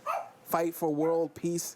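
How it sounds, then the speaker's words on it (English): A pet dog barks a few short times, the yips rising over ongoing conversation nearby, with people talking throughout. "that's our dog."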